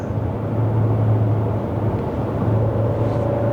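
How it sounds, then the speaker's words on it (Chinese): A Chery Tiggo Cross with a 1.5 turbo engine and six-speed gearbox downshifts while driving, the engine a steady low hum and rumble in the cabin with a faint rise in tone toward the end. "它稍微有做一点点的降档补油，让这辆车降档的时候基本上是没有感觉的，你听到这辆车有声音而已"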